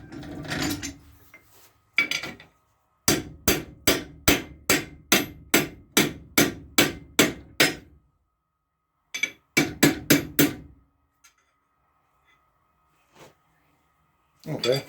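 Hammer striking metal at a forge to bend it, loud close blows in a steady rhythmic run of about a dozen, then a shorter burst after a pause.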